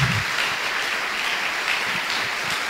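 A church congregation claps together in dense, continuous applause that fills the room and holds steady from start to finish.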